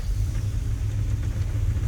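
A 1978 Chevrolet K10 truck fitted with a new three-row aluminum radiator drives along on a test run, its engine a steady, close, low rumble with road noise and no talk.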